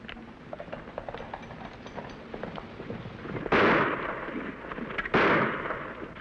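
Two loud gunshots in a Lone Ranger radio-style audio drama ring out a couple of seconds apart, each with a booming tail, over a quieter Western scene.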